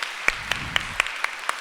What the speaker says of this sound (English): Give a round of applause to these incredible panelists, please.